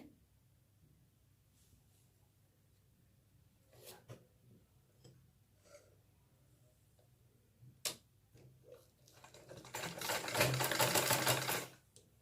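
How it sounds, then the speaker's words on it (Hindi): Sewing machine stitching a collar onto a kurti, with a few soft ticks and clicks early on, then a loud, steady run of rapid stitching near the end, close by and alone. "इस तरह से रखकर यहाँ से हमें सिलाई कर देना है।"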